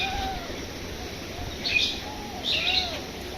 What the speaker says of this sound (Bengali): আছে পাখির ডাক, প্রকৃতির বাতাস।